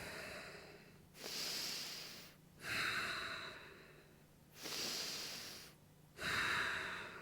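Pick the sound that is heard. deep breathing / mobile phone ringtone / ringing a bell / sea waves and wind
deep breathing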